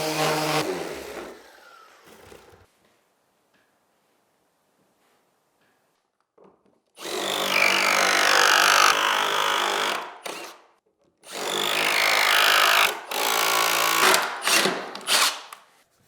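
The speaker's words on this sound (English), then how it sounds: "We drilled a hole 2 inches from the bottom." Power drill boring a hole into a wooden railing post, two loud sustained bursts of whirring motor noise, the first about three seconds and the second about four, with a brief gap between them and a shorter burst at the start.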